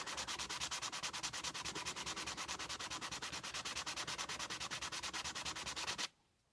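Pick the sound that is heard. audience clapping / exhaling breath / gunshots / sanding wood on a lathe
sanding wood on a lathe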